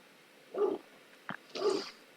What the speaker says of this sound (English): my dog is barking once again